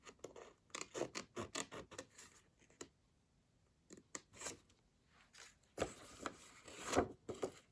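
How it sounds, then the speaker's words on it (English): Scissors cutting card along a score line, a close, quiet run of rhythmic snipping and scraping strokes with a short pause partway through, no talking. "going to want to cut your score line off"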